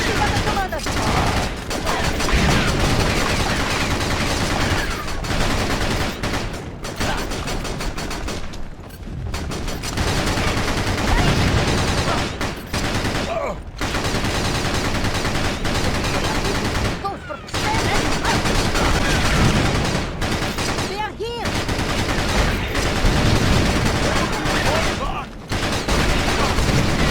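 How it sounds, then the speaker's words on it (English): Sustained gunfire from the Battalion Wars video game on GameCube, dense continuous volleys and machine-gun bursts with brief pauses, loud throughout, with a voice talking over the battle. "They're shooting at the commander."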